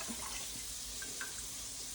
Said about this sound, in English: you are going to put a whole can of water into the pot